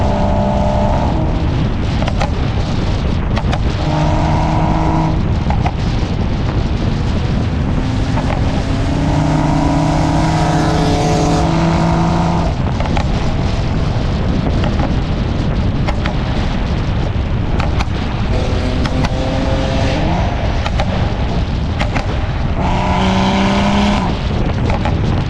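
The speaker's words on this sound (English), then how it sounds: "It pops really nice." Exhaust of a BMW F32 435i with catless downpipe and MHD tune, revving loudly with repeated pops and crackles over sustained engine drone, near and continuous.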